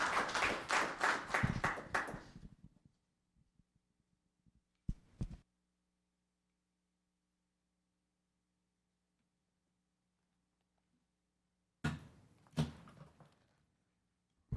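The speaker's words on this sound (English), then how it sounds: "One more round of applause." Applause at a town council meeting: a short round of clapping from a small group fades out after a couple of seconds, followed by near silence and a few faint bursts of sound.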